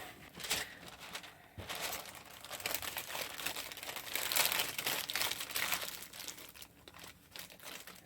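Wax paper crinkling and rustling while being placed over a small jam crock, a close, fairly quiet run of uneven crackles with brief pauses and no talking.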